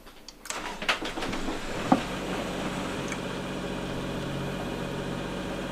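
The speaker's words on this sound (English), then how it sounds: "Next, to power this by the generator, we'll go through starting the generator." A boat's onboard generator cranks over briefly and then settles into a steady, continuous low engine hum that runs evenly at moderate volume to the end, with no talking.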